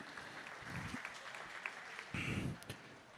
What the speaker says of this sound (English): And a big round of applause for Jacob Desoy as well.